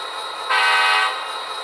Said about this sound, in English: I love a 5-chime horn. K5 horns are my favorite.